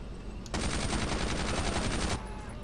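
A single rapid burst of machine gun fire in Brothers in Arms: Road to Hill 30, close and loud, lasting under two seconds with a fast even rhythm.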